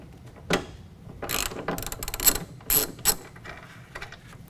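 A hand ratchet backs off a 13 mm nut on a Multi-Pro tailgate of a 2019 Chevy/GMC 1500 pickup, giving several bursts of quick clicking, close and fairly loud, with short pauses between strokes and no speech.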